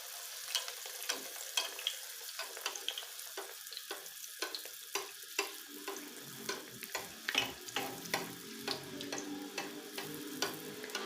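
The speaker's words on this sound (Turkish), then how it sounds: "Şimdi onları da kızartalım." Turkish pişi dough crackles and sputters in hot oil, a continuous hiss dotted with frequent sharp pops and ticks.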